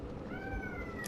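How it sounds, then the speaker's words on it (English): A distressed kitten meows in a drawn-out, wavering cry close by, with a faint continuous background hum beneath it. "Our kitten's a little upset with us."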